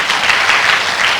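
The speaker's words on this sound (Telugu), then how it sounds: "గట్టిగా క్లాప్ చేద్దాం." An audience at a rally in Srikakulam claps together in dense, even applause, loud and sustained through the whole moment with no voices standing out.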